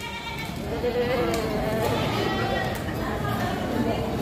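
Goats bleat amid a noisy outdoor crowd at a livestock market in Padre Garcia, Batangas, with steady chatter and background bustle throughout.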